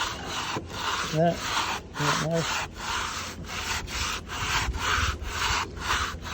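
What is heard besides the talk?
sanding block sanding a wood window sash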